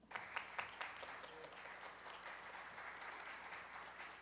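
An audience at a public safety technology forum on typhoons and heavy rain applauds as a speaker steps up to the podium, steady clapping heard at a distance with a few sharper claps early on.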